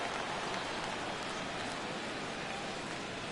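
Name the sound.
rain falling in a baseball video game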